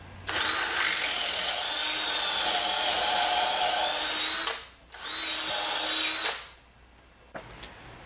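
A power drill enlarging a hole to 11/32 inch in a wooden fence template whirs loudly at close range in two long bursts, the first about four seconds, the second shorter after a brief pause, then stops.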